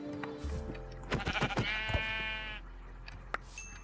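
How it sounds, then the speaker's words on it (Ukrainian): A sheep in a game world bleats several times in a quick wavering burst, close and clear, followed by a short faint bleat. "Так, ти рожева вівця."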